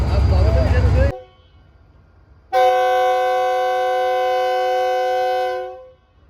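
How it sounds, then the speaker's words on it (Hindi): A loud, sustained multi-tone horn blares from the Tezgam Express as it departs platform 1 at Karachi Cantt railway station, following a burst of speech and a pause, holding steady for about three seconds before fading. "तेज़गाम एक्सप्रेस रवाना हो रही है Karachi cantt railway station platform number 1 से। ज़ोरदार हॉर्न"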